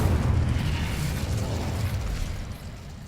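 A fire spell from Hogwarts Legacy erupts in a dense, roaring burst of flame, loud and continuous for a few seconds before easing off slightly, with no talking.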